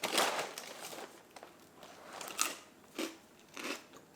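A crunchy sugar-cookie-flavoured snack being bitten and chewed, giving a few close crisp crunches spaced over a few seconds in a quiet room.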